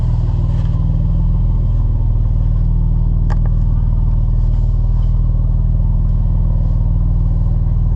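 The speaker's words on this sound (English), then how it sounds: "Let you guys hear the exhaust and everything too." Mercedes-AMG C43 exhaust on a night drive, a steady loud low rumble with continuous engine drone throughout, no clear revving peaks.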